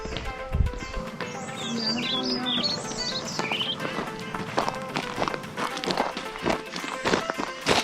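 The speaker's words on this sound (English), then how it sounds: "can hear the nature, the birds." Birds chirp and tweet in high, warbling bursts in the jungle near Yana Caves, Gokarna, amid footsteps and rustling movement, with occasional voices in the background.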